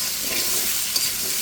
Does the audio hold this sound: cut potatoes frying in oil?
yes